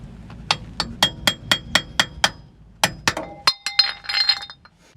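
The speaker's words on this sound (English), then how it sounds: "this wood chisel works perfectly for getting your hubcaps off without putting any dents in them" A wood chisel is tapped and levered against a metal hubcap on a 3rd-generation Toyota 4Runner, giving a close, sharp series of about a dozen bright metallic clinks and rings, evenly spaced, then a quicker cluster of ringing taps.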